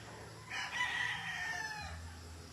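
A Mayahin rooster with a straight comb crows once on a Philippine farm, a loud drawn-out call rising and then trailing off over low background noise, with no talking.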